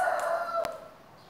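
A rooster crows once in a single drawn-out call, loud and close, with a sharp click partway through and the call fading into quiet room noise.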